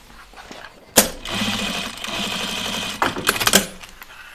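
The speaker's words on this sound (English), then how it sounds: "My machine is loving the thickness of all this." A sewing machine stitches through thick backpack fabric in a steady, close run of rapid needle strokes, broken by a sharp knock near the start and a few clunky bursts toward the end.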